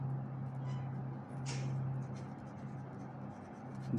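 Chalk or marker scratches across a board during a school maths lesson on profit and loss, with faint strokes over a steady low room hum, and one brief louder stroke in the middle.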